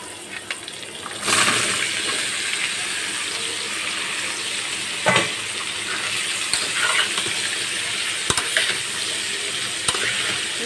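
Vegetables for a white curry with turmeric and chilies fry in a hot pan as they are stirred, making a continuous loud sizzle broken by several sharp scraping clacks.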